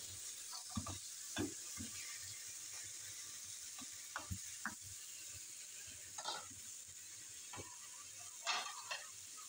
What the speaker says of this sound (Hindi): उधर से तो फ्राई हो चुके हैं, इनको फ्राई कर लेते हैं।